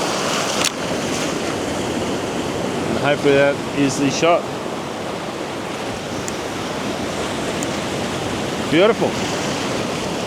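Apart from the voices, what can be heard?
ocean waves crashing on the shore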